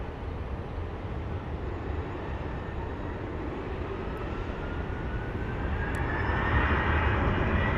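An airliner engine roars at Sky Harbor International Airport (KPHX), a steady, fairly distant whine and rumble that swells louder toward the end, with no voices.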